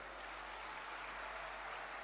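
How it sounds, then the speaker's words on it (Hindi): An audience applauds at a public event for a railway line doubling project in Sagar, Madhya Pradesh, a steady, faint wash of distant clapping throughout the short stretch with no voices. "मैं मोदी जी को हृदय से धन्यवाद देता हूं और आप भी तालियां बजा के अभिनंदन करें।"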